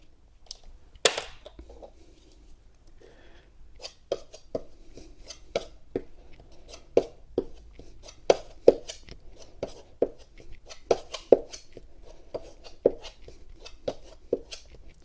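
Wood filler is worked together with red hardener on a board, producing a close series of sharp taps and short scrapes from the knife in an uneven, repeated rhythm over quiet background.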